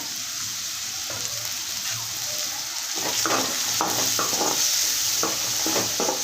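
Onion pieces fry in a pan for goat blood fry, a steady sizzle under stirring, with scraping and clinking of a utensil growing more frequent in the second half.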